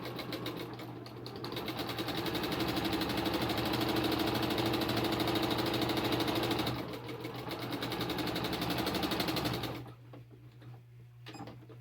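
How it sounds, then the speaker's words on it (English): A sewing machine runs steadily, stitching fabric for a pin cushion, its dense mechanical whir carrying for about ten seconds with a brief slowdown near the middle and a low hum underneath, then stopping. "we're going to sew all the way down, then we're going to pivot, go across, sew all the way up"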